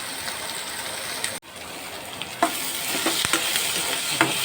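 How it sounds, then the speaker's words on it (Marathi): Sliced onion frying until golden brown for dry mutton, a dense continuous sizzle with a brief dropout and a few light stirring knocks, close and steady, no voices. "कांदा गोल्डन ब्राऊन करायचा."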